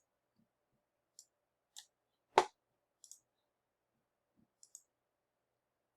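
Sparse, sharp clicks of a computer mouse during SolidWorks CAD work, about eight quiet taps spread irregularly over six seconds, with one louder, fuller click near the middle, close and isolated in a silent room.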